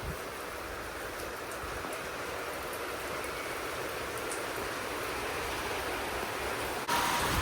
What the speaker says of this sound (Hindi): देख लो पूरे में पड़ रही है हमारी छजली पे, बूंदे अंदर तक आ रही हैं